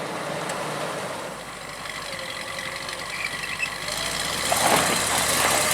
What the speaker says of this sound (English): There's the first burnout in the Jeep truck.